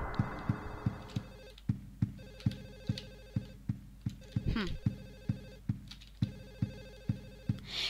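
A telephone rings in Silent Hill 4: The Room with a steady, repeating electronic ring pattern at a moderate level. Regular thudding beats underneath sound like a heartbeat, and a brief rumble passes midway.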